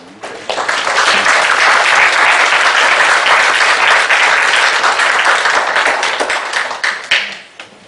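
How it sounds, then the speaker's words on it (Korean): Church congregation at a Korean church in New York applauds warmly for a missionary: sustained, dense clapping from many hands swells in quickly, holds steady for several seconds, then thins out and fades. "우리 성교사님을 위해서 우리 크게 격려의 박수로 좀 해주세요."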